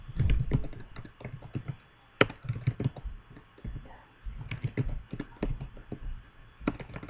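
HTML code being typed on a computer keyboard: close, fast bursts of key clicks with short pauses and a few sharper, heavier keystrokes.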